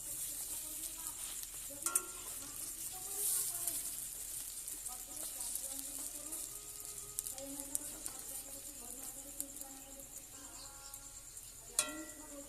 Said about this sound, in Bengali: এবারে ছোট ছোট করে বড়াগুলোকে দিয়ে দেবো।